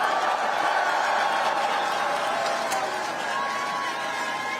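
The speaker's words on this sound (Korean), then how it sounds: "우리 네 분 국회의원 앞으로 더 잘하라고 한 번만 더 박수 부탁드립니다" Audience applause at a political rally, a steady dense wash of clapping and crowd noise that holds loud and even throughout with no one speaking over it.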